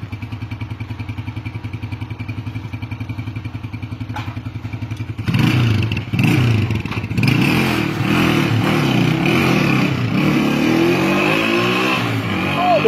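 Motorcycle engine idling with a steady pulsing beat, then revving hard into a loud, rough roar with clatter and thumps, close by and continuing to the end, in an outdoor setting in Gabon.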